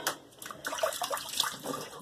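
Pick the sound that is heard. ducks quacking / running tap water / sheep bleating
running tap water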